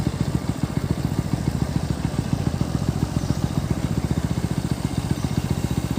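A new motorcycle being ridden on a punctured tyre gives off a steady, rhythmic low thumping and engine clatter that runs unbroken through the whole stretch, fairly close, with no talking.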